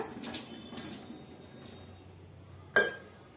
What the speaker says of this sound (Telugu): కొద్దిగా పచ్చిమిర్చి అనేది వాష్ చేద్దాము కడుక్కుందాము బాగా శుభ్రంగా